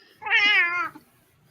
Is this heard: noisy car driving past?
no